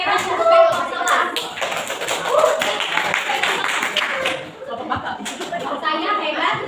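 Group of people clapping a rhythmic cheer in a classroom collaboration session, sharp claps in quick patterned bursts mixed with lively voices and chatter.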